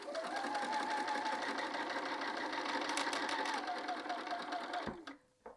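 Sewing machine stitching across a seam on quilted jacket fabric, a fast, even mechanical hum running steadily up close, then slowing and stopping near the end.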